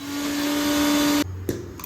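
A kitchen mixer grinder grinding chutney whirs with a loud, steady motor whine, then cuts off abruptly, followed by a short clatter and a brief restart.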